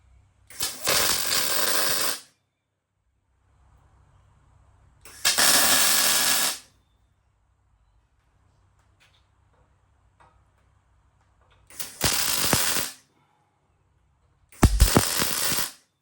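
Tack welding a bracket onto a non-winch bullbar being modified for a Warn high-mount winch: four loud, harsh crackling bursts of one to two seconds each, separated by quiet pauses with a low background hum.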